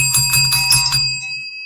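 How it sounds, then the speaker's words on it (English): A long bell sound effect: a bright ringing bell struck several times in quick succession, then left to sustain and fade with a clear lingering tone. "Oh, I got a long bell."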